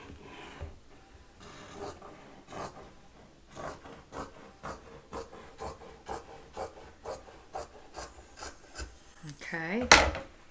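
Scissors snip through thrift store t-shirt fabric in a steady run of short crunchy cuts, close and moderately loud, ending with a brief rustle.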